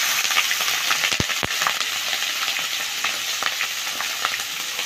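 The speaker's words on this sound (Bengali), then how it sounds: "এ তেলে ফোড়ন দিব কালো জিরে" Black cumin seeds and green chilies sizzle in hot oil in a pan, a dense, steady frying hiss with a couple of sharp clicks near the start, close and alone.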